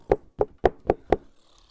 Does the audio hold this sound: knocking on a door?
yes